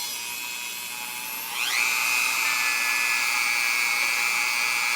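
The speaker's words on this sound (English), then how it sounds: "For really tight spaces is your Dremel." A variable-speed Dremel rotary tool whining steadily, its high pitch climbing sharply as it speeds up partway through, then holding a constant shrill tone, close and alone.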